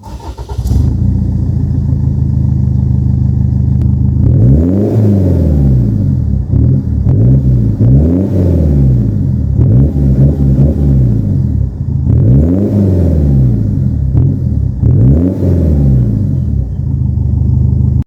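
An MG ZT's exhaust back box revs repeatedly in rising and falling bursts over a deep, steady idle rumble, loud and close, with no talking.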